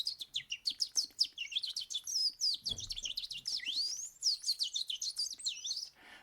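A person mimics the American goldfinch call with rapid, high chirping twitters and rising whistled notes in a continuous, lively run, close and clear.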